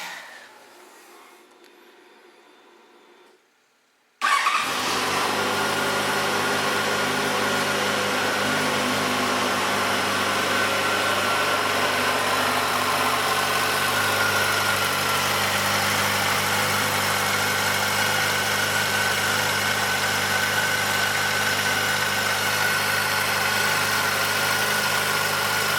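A Yamaha FZ1 motorcycle engine starts up after a few quiet seconds, then idles steadily and evenly at close range with a constant low rumble.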